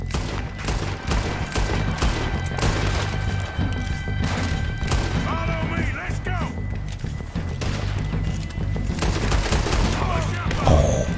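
Gunfire rings out in the Western action game Red Dead Redemption II, a loud string of rapid shots and crashing impacts over the game's background sound, with someone talking over parts of it.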